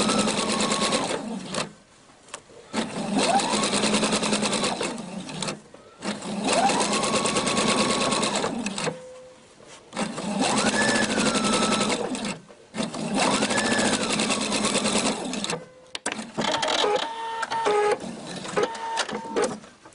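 Husqvarna Viking sewing machine stitching piping cord into a fabric edge, in several sustained whirring runs of a few seconds each, separated by short pauses and faint handling noises.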